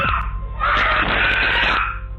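Boys scream in panic in a room after flowers on a kitchen table move by themselves, several loud shrill overlapping voices sustained for about two seconds, close and intense.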